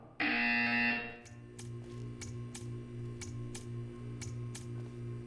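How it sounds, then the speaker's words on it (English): A loud, harsh buzzer in the video game Portal 2 blares for about a second, then stops, leaving a low electronic hum and soft, regular ticking clicks. "You will hear a buzzer."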